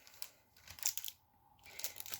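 A paper greeting card is unfolded, giving a few quiet bursts of crinkling and rustling paper separated by brief pauses, close by and soft.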